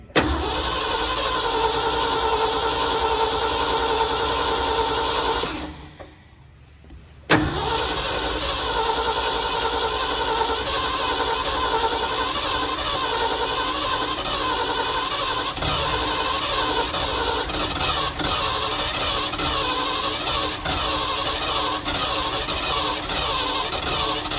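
A 1979 Ford L-600 service truck, a barn find being started for the first time in 17 years, cranks loudly and steadily on its starter motor for about five seconds, pauses briefly, then cranks again at length without catching.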